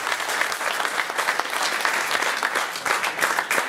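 Enthusiastic applause from an audience at a municipal election list presentation in Livron, a steady, full roll of many hands clapping close by with no talk over it.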